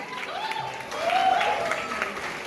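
Clapping from guests welcoming the bride's parents at a Marathi tilak ceremony, a steady crowd applause that swells midway and continues throughout the clip.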